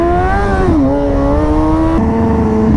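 A motorcycle drifting on a race circuit, its engine loud and close with a sustained high rev that drops and shifts pitch between gears.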